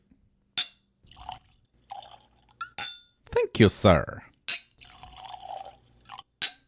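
Ardbeg whisky is poured into a glass, giving close drips, trickles and light glass clinks between bursts of nearby talk.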